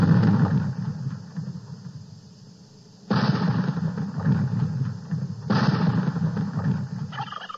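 Cannon fired in a barnyard turkey shoot game booms three times, close and loud, each blast trailing into a long rumbling roar, the first fading before two more follow.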